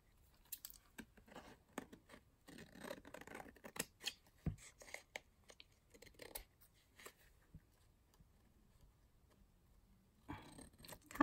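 Scissors trim paper while collaging vintage envelopes, giving quiet, close crisp snips and rustles in irregular bursts, with no talking.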